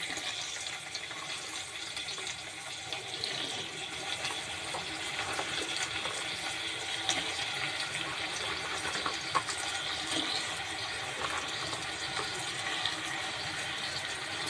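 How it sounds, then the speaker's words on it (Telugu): Okra pieces fried in hot oil in a pan for bendakaya pulusu give off a continuous, even hiss and crackle that stays moderately quiet, with no talking over it. "ఇప్పుడు బెండకాయ ముక్కలు కూడా వేసేసుకుందాం."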